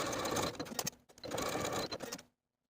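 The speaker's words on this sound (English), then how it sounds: "overlap the loose ends and stitch back and forth to secure" Sewing machine stitching back and forth over overlapped elastic ends on a holiday dress, two steady bursts of close, loud mechanical running with a brief pause between.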